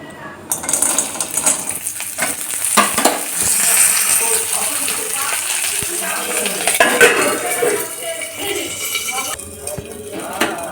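Hard raw corn kernels fry in hot oil in a pan, with a steady crackling sizzle and occasional clinks of a spoon or kernels against metal, close and continuous.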